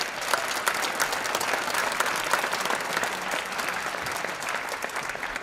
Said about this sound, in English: Please give a round of applause to our musician that's entertained us this evening